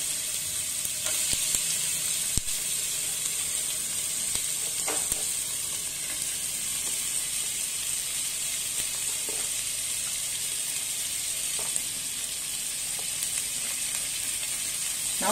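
A finely chopped onion sizzles steadily in a pan while being fried for South Indian sambar, a soft continuous hiss broken by occasional faint clicks of stirring.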